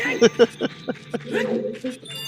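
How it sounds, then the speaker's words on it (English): A dog close by gives several short yips and barks early on, then a longer whimpering whine, all near and fairly loud. "I have my dog making noises right next to me"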